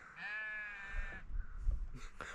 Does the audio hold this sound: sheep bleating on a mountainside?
yes